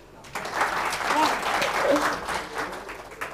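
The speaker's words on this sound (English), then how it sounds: "Huge round of applause, please." An audience claps enthusiastically for a few seconds, a dense burst of applause that swells and then begins to taper.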